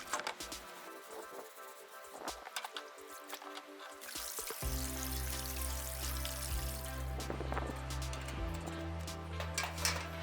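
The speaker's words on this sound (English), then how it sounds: "Then, rinse them off in another tub of water." Gas grill grates being rinsed in a tub of water, with pouring and trickling water splashes, starting as scattered drips and then settling into a steady, close pour.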